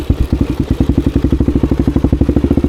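A Honda XR400 motorcycle engine on a test ride, a close, loud, rapid thumping idle or low-rev putter with a steady pulsing rhythm.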